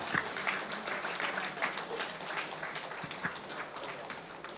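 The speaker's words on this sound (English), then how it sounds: "Can we give a round of applause to all these guys?" Light audience applause at a Chennai React developer meetup, scattered claps of moderate loudness that stay steady for several seconds, with a few sharper individual claps standing out from the crowd.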